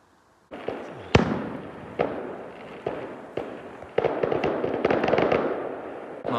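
Fireworks bursting at night near a hotel, a series of sharp booms spaced about a second apart, then a denser crackling volley, loud and somewhat distant, with no talk.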